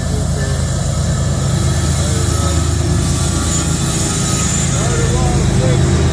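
A freight train passing at night in Abbeville, Louisiana, a continuous loud, steady rumble and rolling rail noise held at close range throughout, with a voice audible over it at times.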